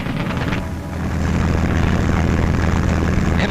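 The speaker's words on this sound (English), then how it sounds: "the sound of aeroplane engines filled the air." A steady, loud drone of World War II-era propeller aircraft engines fills the air, swelling slightly and holding constant throughout.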